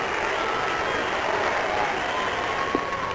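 Baseball stadium crowd at a 1985 Chicago Cubs game cheering for Pete Rose, a steady, broad roar of applause and voices that holds loud throughout with a brief sharper burst near the end.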